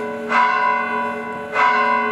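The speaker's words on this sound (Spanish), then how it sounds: "como no sé lo que suenan aquí las campanas" Church bells in Morocco ringing with two separate strikes about a second apart, each bright and resonant with a long humming tail that sustains between them, fairly near and with no talk.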